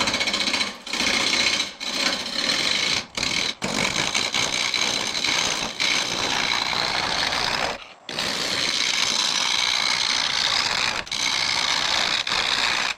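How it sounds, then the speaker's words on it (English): Juniper wood blank being turned down to a cylinder on a lathe, a steady, loud whirring and scraping drone that runs nearly continuously, broken by a few brief dropouts as the tool lifts off. "So we're just gonna turn this down to a cylinder"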